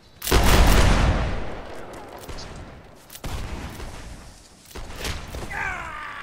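Musket volley in a Whigs and Tories line battle: a loud, crackling burst of many near-simultaneous shots opens, decays into rumbling echo, then scattered later shots follow with faint voices underneath.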